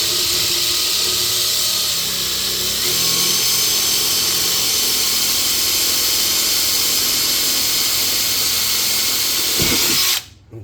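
A loud power drill grinds steadily through hard material for about ten seconds, a harsh continuous whine that cuts off abruptly at the end.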